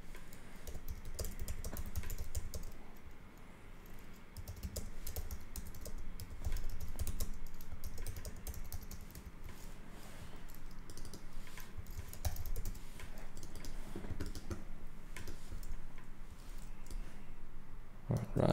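Computer keyboard typing while designing in Figma: quick, irregular clicking keystrokes close to the mic, continuous over a quiet room background.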